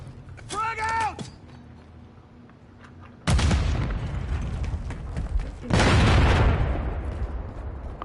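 Grenade blasts in Call of Duty MW3, two sudden loud booms a couple of seconds apart, each with a broad rumbling tail, following a brief whistling tone and quiet mechanical noise.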